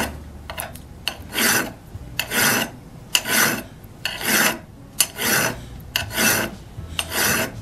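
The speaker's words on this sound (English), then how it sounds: "I'm going to have to do quite a bit of filing on this one." A file rasping across a dull auger drill bit to sharpen it, about ten regular back-and-forth strokes in a steady rhythm, close and clear, with no talking.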